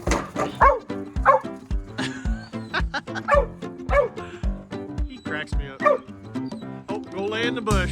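Dogs playing in a back yard let out repeated excited barks and yips, close and loud, with whimpering in between and a person's voice mixed in.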